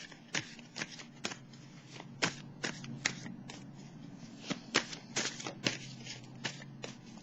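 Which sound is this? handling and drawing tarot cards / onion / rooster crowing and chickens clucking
handling and drawing tarot cards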